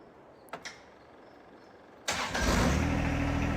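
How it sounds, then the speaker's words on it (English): Two soft clicks, then a John Deere 1023E/1025R compact tractor's engine cranks and catches at about two seconds, settling into a steady, close idle rumble; no voices. "Okay, tractor sounds normal."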